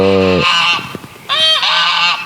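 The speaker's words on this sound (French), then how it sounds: "Ça, c'est les oies d'à côté." Loud geese honking close by from next door in two bursts of harsh, nasal calls, separated by a brief lull with scattered soft clucks.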